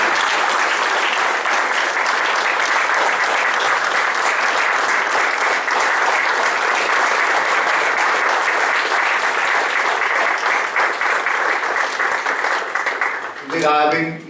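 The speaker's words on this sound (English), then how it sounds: "Can we have a big round of applause for" Sustained, loud audience applause at a movie screening, dense clapping holding steady for many seconds before tapering off, with a voice starting to speak at the end.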